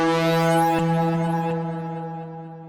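Raw, unprocessed synthesizer tone made as a video game reward sound: a sustained, rich buzzy note with strong harmonics, loud and alone, slowly fading over a few seconds.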